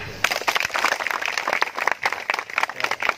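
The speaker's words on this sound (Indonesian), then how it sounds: "Tepuk tangan." A small group at an outdoor snake-catching training session claps in a short, uneven burst of applause, the individual hand claps sharp and close.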